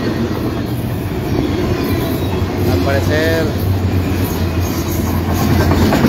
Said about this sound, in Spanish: Nos está llegando un tren, desafortunadamente va un tanto fuerte.